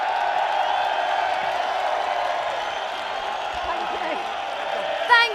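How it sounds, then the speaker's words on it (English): A large outdoor crowd at a Unite the Kingdom rally in London applauds and cheers in a steady, continuous roar of clapping and voices, with a louder burst at the very end. "let's give a massive applause to all of us"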